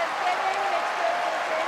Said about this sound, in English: standing ovation from the crowd in Incheon, Korea